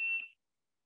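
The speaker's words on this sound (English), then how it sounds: "Loud beep, red LED." A single loud, high-pitched electronic beep from a BEA Universal keypad, steady for about a third of a second and then cutting off into silence.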